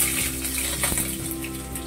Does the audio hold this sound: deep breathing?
no